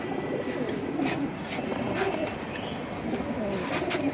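Pigeons coo softly and repeatedly over a dense, constant background hum, with faint chirps mixed in.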